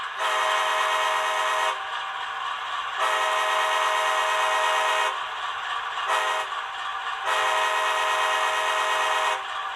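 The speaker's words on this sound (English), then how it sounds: "I don't remember sounding the horn" Horn of a ScaleTrains HO-scale AC4400CW model locomotive in NAFTA 2000 KCS scheme, sounded through DCC sound: four loud, steady multi-tone blasts, two long and two shorter, with brief gaps between them.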